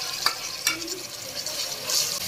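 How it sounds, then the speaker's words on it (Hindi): Chopped onion and tomatoes frying in a pan for aloo methi, a soft continuous sizzle broken by several scrapes and knocks of stirring, no talking. "और इसकी अच्छे से भुनाई करेंगे"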